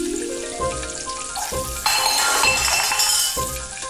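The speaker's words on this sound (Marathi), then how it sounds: "भांड्यांचा आवाज येतोय, काहीतरी किचन मधला असं फोडणीसारखा आवाज येतोय" Utensils clink and clatter in a kitchen while a tempering sizzles and hisses, the frying growing louder midway, close and busy, with no talk.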